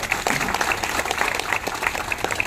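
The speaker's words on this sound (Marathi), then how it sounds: "आपण सगळ्यांनी भैयांच्यासाठी पुन्हा एकदा टाळ्या वाजवायच्या." A seated audience at a Marathi talk applauds steadily, a dense, continuous crackle of many hands clapping that holds at even loudness throughout, with no voices over it.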